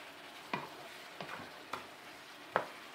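Salted fish and mushrooms simmering in a pan while being stirred, a faint low bubbling with four separate utensil scrapes and clinks spaced irregularly, no voices.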